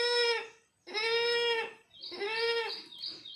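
Three close, trembling bleats come in quick succession as a boy imitates a lamb, his voice rising and wobbling on each call.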